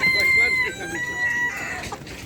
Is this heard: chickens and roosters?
yes